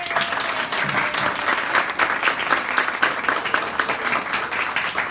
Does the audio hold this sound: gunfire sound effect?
no